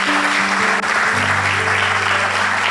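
Church congregation applauding during a sermon session, sustained dense clapping with a low sustained organ or keyboard tone underneath.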